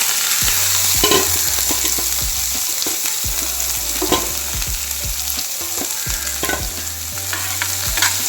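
Vegetables for egg fried rice being stir-fried in a hot pan: a constant loud sizzle with rhythmic scraping and tossing strokes of a spatula, close up and without speech.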